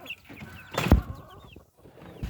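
Chickens cluck nearby in short, scattered calls, with a brief sharp knock partway through and quiet farmyard background.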